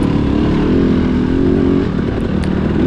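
A small-bore motocross bike engine screams at high revs during a Senior C cross-country race at the Glacier Run, loud and close with a sustained buzzing drone that barely dips throughout.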